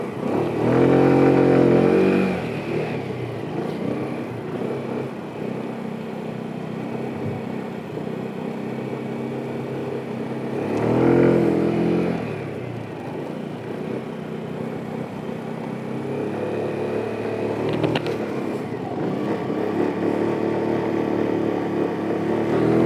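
Scooter engine revving up twice as it accelerates through a turn on a riding course, with rising surges followed by a steadier mid-level hum, fairly close.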